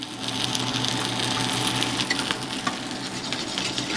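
Heavy cream poured into a reducing sauce in a pan, giving a close, steady sizzle and bubbling hiss with a few small clinks, continuous throughout.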